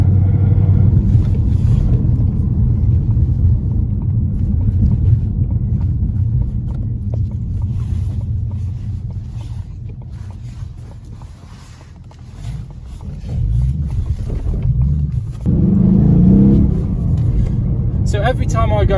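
A 2018 Ford Mustang GT V8 on the move, its deep engine rumble droning loudly and steadily, dipping in the middle and then swelling again as it picks up speed, with wind buffeting and someone talking over it.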